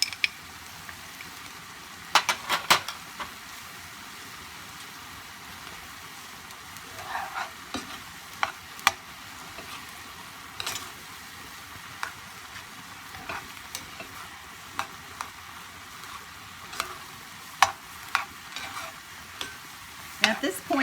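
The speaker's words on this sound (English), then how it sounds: "Then we're going to stir in a flour mixture." Spoon scraping and stirring a flour mixture into a sizzling stroganoff in a pan, with a soft frying hiss underneath and irregular clinks of utensil against the pan, close up.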